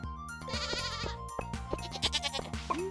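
Goat bleats in the farming game Stardew Valley, several short synthetic cries over a steady looping music background, repeated through the clip with a rising call near the end.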